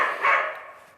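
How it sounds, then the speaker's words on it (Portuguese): A female dog barks once indoors during a sociology lesson, a single loud, close bark that fades quickly. "Ai, minha cachorra atrapalhando"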